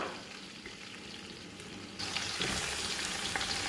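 Six hundred grams of sliced onions sauté in oil for mutton biryani, a faint hiss that suddenly grows into a louder, fuller frying sizzle halfway through, steady and close with no talk.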